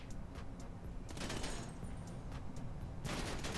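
Gunshots in GTA 5 aimed at a car's tyres: a string of sharp, closely spaced cracks over a constant rumbling engine-like bed, fairly loud and busy throughout.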